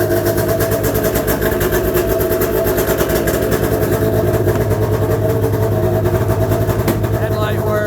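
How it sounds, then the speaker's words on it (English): A 1998 Arctic Cat ZR600 EFI snowmobile engine runs at a steady, loud, rapid-pulsing idle close by, with a fast even mechanical chatter throughout. "Anyway, I'll start it up for you."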